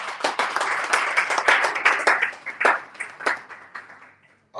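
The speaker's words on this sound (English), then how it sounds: "So let's give a round of applause for her." Audience applause at a startup graduation ceremony, a dense patter of many hands clapping at moderate volume that thins out and fades toward the end.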